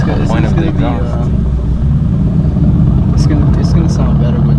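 A Mercedes-AMG C63 S fitted with an AWE track exhaust rumbles loudly nearby in a deep steady drone, with voices talking briefly over it.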